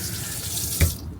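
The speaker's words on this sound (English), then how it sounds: "just hear a faint pump sound there" Water running from the tap system of a camper van, a close, continuous rushing flow with a brief louder splash near the end and no talk.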